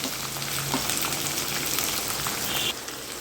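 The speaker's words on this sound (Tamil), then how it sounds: "இப்போ இதில் கட் பண்ணி வச்சுருக்க வெங்காயத்தை சேர்த்துடலாம்" Chopped onions dropped into hot oil with whole spices, producing a dense, loud, close crackling sizzle that holds steady for a few seconds before easing slightly at the end, no talking.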